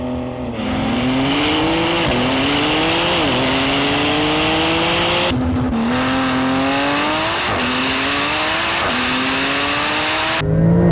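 Porsche 911 Turbo S and GT2RS drag racing side by side, loud engines roaring through rising gear pulls with sharp shift breaks, sustained and close, with no talking.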